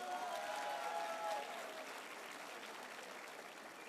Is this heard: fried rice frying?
no